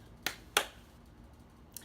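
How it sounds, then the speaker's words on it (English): A quick pair of sharp hand claps close by in a quiet room, the second slightly louder, followed by a fainter single snap-like click a moment later, no talking. "I don't know why I just clapped"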